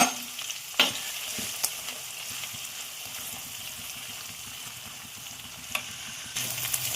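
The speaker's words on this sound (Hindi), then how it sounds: "तो मैं इसमें डालती हूँ प्याज।" Chopped onion goes into a pan of cooked garlic and asafoetida and fries with a soft, steady sizzle, with a few sharp clinks and stirring scrapes nearby and no talk.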